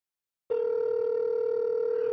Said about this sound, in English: Come on, pick up your phone, Corey.